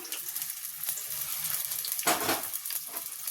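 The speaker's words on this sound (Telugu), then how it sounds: "సన్నగా కట్ చేసి పెట్టుకున్న ఉల్లిపాయలు వేసి ఫ్రై చేసుకుందాం" Finely chopped onions and green chillies frying in hot oil for chicken fry, a close steady sizzle with a brief louder burst midway, likely from stirring.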